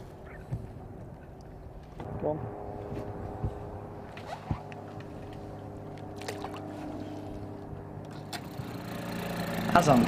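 Small Suzuki DF4 auxiliary outboard pushing a boat, a steady low engine hum heard throughout with water and handling noises, growing slightly louder toward the end.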